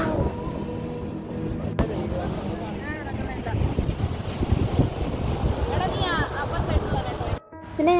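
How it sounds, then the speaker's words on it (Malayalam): Strong wind at a beach in Fort Kochi buffets the microphone in heavy, gusty rumbles, with people talking under it and a brief dropout near the end. "ഭയങ്കര കാറ്റാണ്"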